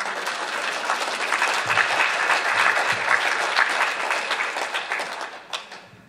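Sustained applause fills a lecture hall as the audience claps for a speaker, dense and even, fading near the end.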